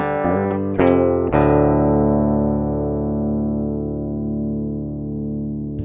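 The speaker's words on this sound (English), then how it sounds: "Just a plain straight guitar." A plain electric guitar with no effects plays a few quick picked notes and then a strummed chord that rings out and sustains for several seconds, clean and clear with no talking.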